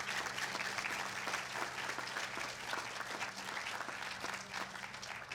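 A steady, distant round of applause from the audience at an eighth grade promotion ceremony, honoring parents and guardians; it stays even and fairly faint throughout.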